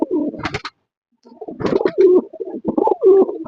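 Lakkha fantail pigeons coo close by in repeated throaty, rolling phrases separated by a brief pause, loud and clear with no talk.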